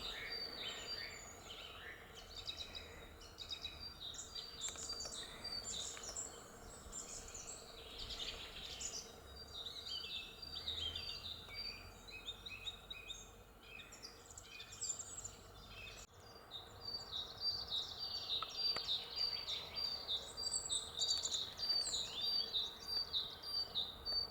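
Outdoors in Odesa region, Ukraine, a chaffinch building its nest calls amid a continuous chorus of other birds chirping and faint insect buzz, steady and moderately distant with no talk.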